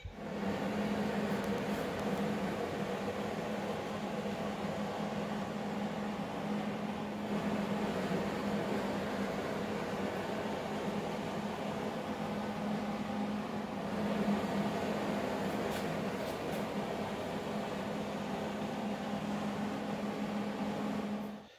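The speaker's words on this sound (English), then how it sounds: "I'm going to flip it over and I'm going to weld the inside of it" Welding the inside of a 1949 Chevy Fleetline custom tail panel, a continuous steady buzzing hiss with a constant hum, running unbroken for about twenty seconds with only brief pauses.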